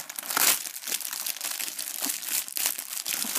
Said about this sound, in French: Je vais d'abord ouvrir le magazine